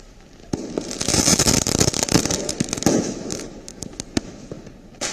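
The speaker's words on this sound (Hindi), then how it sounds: "रज के लोकां ने पटाखे आतिशबाजी की है" Dense crackling firecrackers and booming fireworks burst continuously on Diwali night in Delhi, with many sharp overlapping pops and bangs at close to middle distance and no voices.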